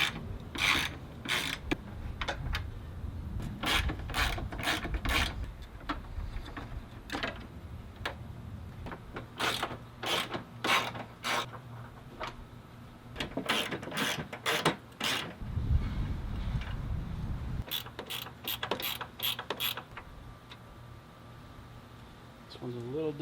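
A ratchet removing 10 mm bolts from the radiator support of a 2005 Ford Focus, giving repeated close bursts of rapid clicking with brief gaps between them, over a low background hum.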